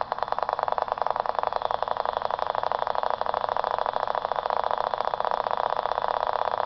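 A Stubblefield lasersaber replication motor with a reed switch and copper coil runs, heard through a radio as a continuous, loud, rapidly pulsing buzz with steady rhythm and no talk.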